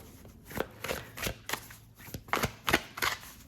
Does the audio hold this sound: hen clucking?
no